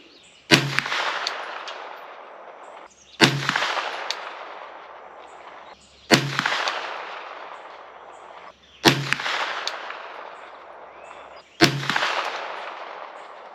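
Five loud, sharp 9mm shots from an Aero Precision EPC carbine firing Blazer ammunition at an outdoor range, evenly spaced about every two to three seconds, each followed by a short decaying echo.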